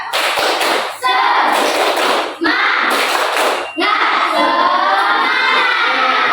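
A group of schoolchildren in a classroom does a tepuk semangat, a rhythmic clapping chant with sung or shouted voices, loud and close, in three bursts separated by short pauses.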